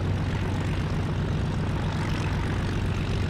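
Propeller aircraft engine in a DCS or War Thunder flight sim, a loud, constant low drone with a steady hum and no pauses.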